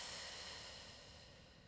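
A deep exhaled breath during a hip-focused yoga session, a soft broadband rush of air that fades steadily over under two seconds, close and quiet with no talking.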